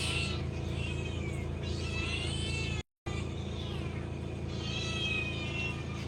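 Several cats meow repeatedly, with rising and falling wavering cries over a constant low rumble and a brief dropout midway, fairly close and loud.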